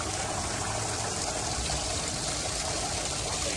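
A playground waterfall pours in a steady, broadband rush of falling water, constant and close with no pauses.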